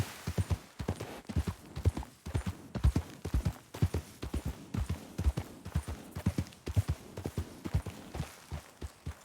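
Horse hooves clip-clop steadily on the ground in a video game, a close, rhythmic trot of repeated thuds running throughout.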